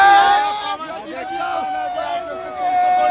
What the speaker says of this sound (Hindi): और काफी भीड़ है।